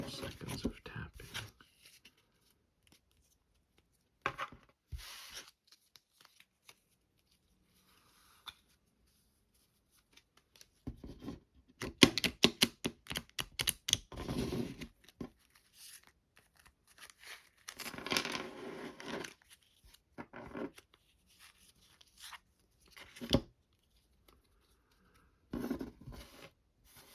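Tarot cards from a Tarot of Pagan Cats deck being shuffled in soft, close riffling and sliding bursts, separated by quiet gaps, with light handling sounds.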